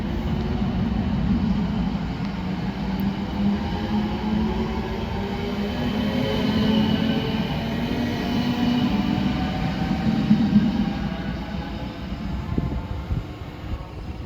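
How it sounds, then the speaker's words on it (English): A South Western Railway train approaches Raynes Park station on the South West Main Line, giving a steady, loud rumble with a broad rail hum that holds level throughout. No voices are heard. "Approaching now is the 12:28 South Western Railway service to London Waterloo."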